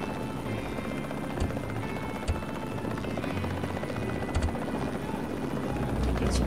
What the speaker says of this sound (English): this is a pretty good little attack chopper